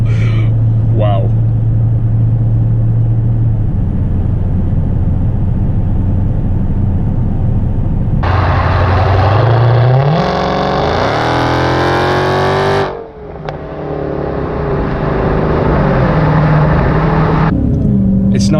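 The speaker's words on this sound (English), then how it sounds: "it's like the supercharger whine" A Dodge Charger Hellcat revs and accelerates hard, its engine note climbing through gears with a rising supercharger whine, loud and close from inside the car; brief exclamations from occupants come through early on.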